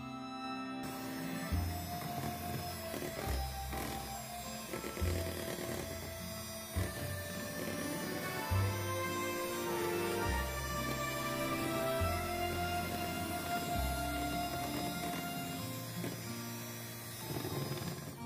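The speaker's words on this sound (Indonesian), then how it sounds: "Mixer dengan speed paling rendah sebentar saja." An electric mixer whirs steadily at its lowest speed while blending cake batter for a steamed-free, oven-free sponge cake, a continuous mechanical hum with a faint rhythmic churn and no talk.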